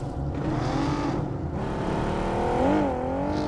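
A vehicle engine in a battle-royale video game draws near, its revving whine climbing and warbling in pitch as it speeds up, a steady motor drone close by.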